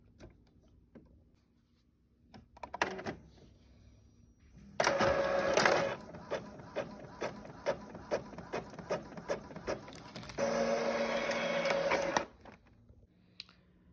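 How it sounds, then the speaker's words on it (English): A printer runs with a mechanical whir and rapid rhythmic clicking, starting after a few soft knocks, pausing briefly mid-run, then stopping; no talk. "I'm gonna get the printer started."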